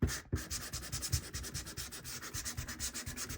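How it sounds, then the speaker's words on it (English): A sanding disc scrubs across paper on a handmade Stampin' Up! scrapbook layout, giving a close, steady rasping rub in quick repeated strokes after a brief pause at the start. "I ended up getting this sanding disc right here"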